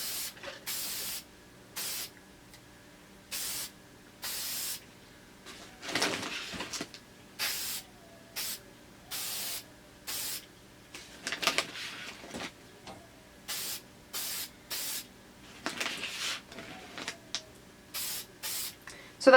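Airbrush spraying clear coat onto patent leather Air Jordan XI sneakers; a long series of short, sharp hissing bursts in an uneven rhythm, close and fairly loud, with faint handling noises between passes.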